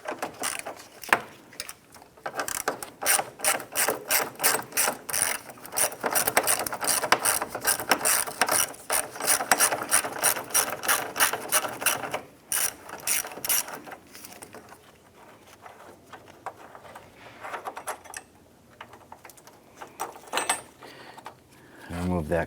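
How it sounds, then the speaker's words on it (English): A hand ratchet clicks in quick rapid bursts while backing out an 8mm bolt on the driver's side upper radiator of a 2005-2007 Ford Five Hundred, loud and close, then fading into quieter handling noises. "I'm going to remove the 8mm bolt here."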